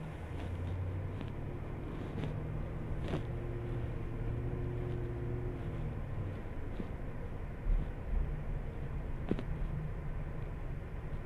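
A new 2023 limousine used as an Uber car is driven at low speed, giving a steady, smooth low engine and road rumble from inside the cabin with a few faint knocks and no talk.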